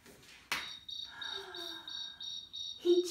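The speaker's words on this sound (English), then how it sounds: "he chirped the most beautiful sound she had ever heard." A cricket chirps in pulsed, evenly spaced trills after a sharp opening hit, clear and close against a quiet background, read aloud from the picture book The Very Quiet Cricket.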